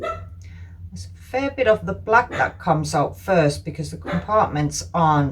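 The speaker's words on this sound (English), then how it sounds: "Excuse my doggy barking in the background." A dog barks intermittently in the background while a person talks steadily in the foreground.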